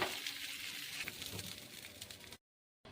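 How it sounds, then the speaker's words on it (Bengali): Rohu fish pieces frying in hot oil, giving a soft, continuous sizzle and crackle that suddenly cuts out before resuming briefly. "এবার আমি মাছগুলি একে একে ভাজতে দিয়ে দিচ্ছি, ভেজে নেব"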